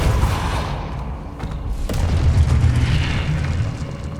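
A fire-blast spell detonates in the Hogwarts Legacy game, a loud, continuous rumbling boom with crackling that swells and stays heavy for several seconds amid combat noise.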